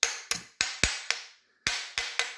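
Hammer blows tap a stuck motor out of a Panasonic EY7440 14.4V cordless drill: eight sharp, close metallic knocks in an uneven rhythm with a short pause midway, nothing else heard.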